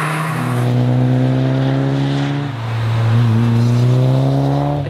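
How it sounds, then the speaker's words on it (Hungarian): A Toyota GT4 rally car drives past loudly, its engine note rising as it accelerates, dipping briefly, then climbing again in a strong, continuous harmonic roar. "A GT4 valójában egy remek autó"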